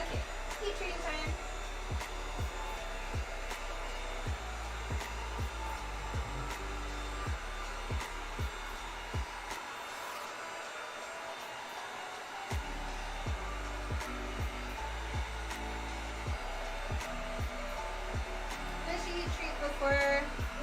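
A hot-air blower used for heat treating craft pieces hums steadily and loudly, cutting out briefly partway through and then resuming, with sharp clicks and faint speech over the drone.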